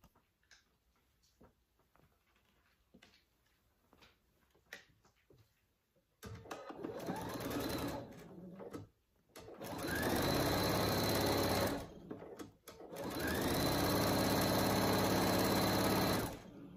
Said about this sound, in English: We're just going to sew all the way around it using a half inch seam allowance.